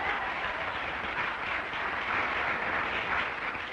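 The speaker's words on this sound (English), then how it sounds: "I don't like the way you're clapping tonight." A large audience claps steadily at a civil rights speech, an even wash of applause held for the whole moment with no talk over it.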